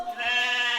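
A goat lets out a single short bleat, a close, clear and wavering cry with no other sounds around it.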